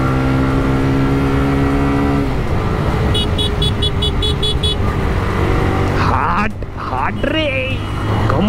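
Hero Xpulse motorcycle ridden and accelerating, engine droning and rising in pitch under a rider talking throughout, with brief chirping sounds midway and wind noise.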